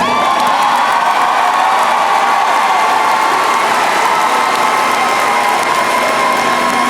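High school graduates at a commencement ceremony break into loud applause with cheers and whoops, a dense, sustained roar of clapping and shouting from a large crowd that carries on for nearly seven seconds.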